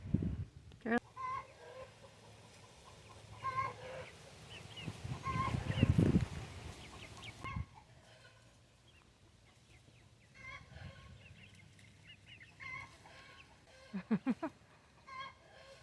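Laying hens of the Murray's Choice Layers mix from Murray McMurray Hatchery cluck and murmur in a backyard coop, soft irregular clucks coming and going over a quiet outdoor background, with a short louder burst of clucking near the end.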